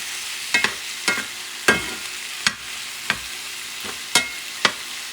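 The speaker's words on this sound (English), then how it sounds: "So what I like doing now is adding the meat again, the pork. Let us maybe mix a little bit." Pork is stirred in a sizzling pan, a spoon scraping the pan in about eight distinct strokes over a steady background hiss of frying meat.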